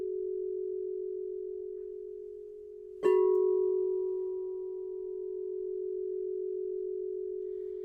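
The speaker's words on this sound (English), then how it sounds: "We got 417 and 741. Same thing. They'll combine into a tone that's different." Sound therapy tones at 417 Hz and 741 Hz: a steady pure hum joined partway by a second sine tone with a brief click, both sustained and clean, no voices.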